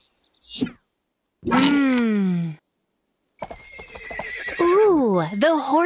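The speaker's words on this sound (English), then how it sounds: "the horse wants even more care and attention." A cartoonish horse in the Barbie's Dreamhouse stables game gives several loud, close whinnies separated by short silences, with hoof clip-clops in between.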